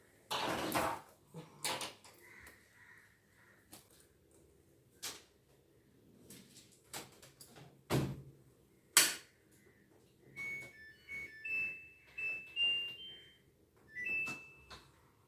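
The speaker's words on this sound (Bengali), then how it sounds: "মেশিনে সাবান দিয়ে মেশিনটা চালিয়ে দিয়ে বেরিয়ে যাব" A washing machine is started after detergent is added, with scattered clunks and clicks of a lid or dispenser drawer, followed by a series of short electronic beeps from the control panel.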